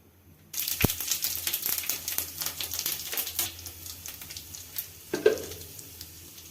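Cumin, dried chilli and three cardamom pods hit hot oil in a home kitchen and erupt into a loud, crackling sizzle, with sharp pops and spatters settling into a steady hiss.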